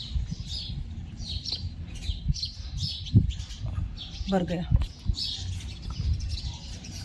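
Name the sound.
birds chirping while being fed grain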